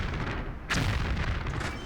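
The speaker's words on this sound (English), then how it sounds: "the 7th explosion, I think, is usually the last one." An explosion in the video game Tomb Raider 5 Remastered, a sudden booming burst with a rumbling tail over steady background game noise, heard alone.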